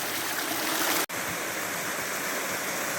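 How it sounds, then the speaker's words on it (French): A small waterfall, the Saut de la Perche in the Morvan, gives a steady, full rush of falling water heard close and loud, broken only by a split-second dropout midway. "Nous voici en présence du Saut de la Perche, petite cascade du début de Lyon."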